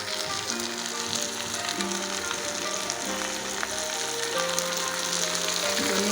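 Coriander leaves lightly frying in a pan for a dhonepata bhorta, a continuous soft sizzle with faint crackles, steady and close, with no talking.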